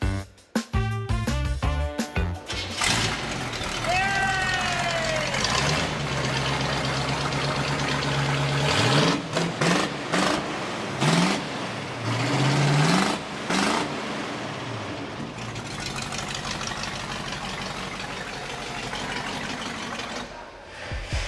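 A 1985 Chevy K20 truck engine idles with a steady, loud mechanical rumble, rising in several quick revs that swell and fall back to idle, with sharp clicks at the start.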